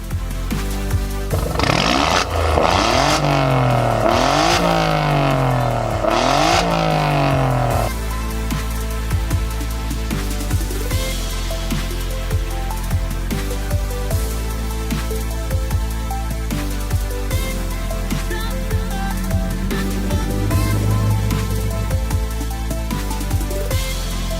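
An Alfa Romeo 4C from 2018 roars at a 4C owners' meeting in Interlaken, revving loudly through several rising and falling sweeps before settling into a rough, steady idle close by.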